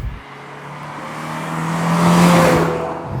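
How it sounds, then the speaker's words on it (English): Steady broadband road and tyre roar inside a 1993 Porsche 968 Clubsport with stripped sound deadening, swelling to a louder peak midway with a low engine drone beneath, continuous and close, no talking. "there's quite a bit of road noise coming through, and you probably appreciate that from the audio"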